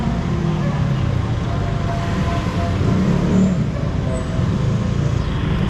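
Traffic jams a narrow street in Macau, giving a steady, loud rumble of idling and creeping vehicle engines close by, with a brief higher engine whine partway through.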